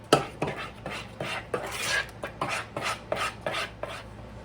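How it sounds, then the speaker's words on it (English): Wet gingerbread cake ingredients stirred in a bowl make a rhythmic series of rasping, rubbing strokes about twice a second, close up and without speech. "And just add that and stir that together really well."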